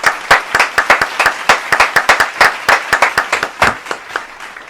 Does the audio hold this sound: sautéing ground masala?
no